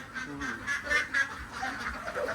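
Ducks quack at a farm in the Philippine countryside, a quick run of nasal quacks in uneven bursts, fairly faint and slightly distant.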